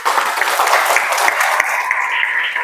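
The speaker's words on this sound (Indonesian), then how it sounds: "Luar biasa, kasih tepuk." A classroom audience at a school presentation on Islamic history claps, a close, busy patter of many hands at a fairly steady level that thins out toward the end while a tone rises underneath.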